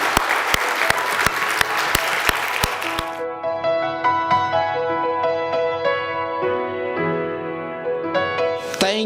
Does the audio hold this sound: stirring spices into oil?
no